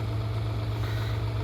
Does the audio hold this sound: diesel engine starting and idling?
yes